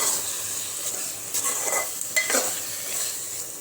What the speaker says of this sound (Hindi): ऐसे ही हमें इसे भूनना है